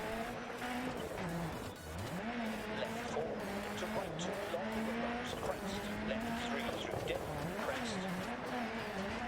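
A rally car in the Dirt 4 racing game swings through a handbrake turn, its engine droning steadily with pitch dips and tyre skid noise, while someone talks over it.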